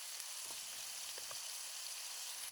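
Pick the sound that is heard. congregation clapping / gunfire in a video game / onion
onion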